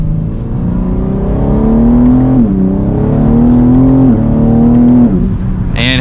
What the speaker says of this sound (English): One last acceleration.